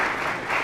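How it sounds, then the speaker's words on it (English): Applause from the audience at the Mbarara University guild swearing-in and handover ceremony, a steady, dense wash of clapping held at an even level for a brief moment, with no voices on top. "It's a round of applause to the"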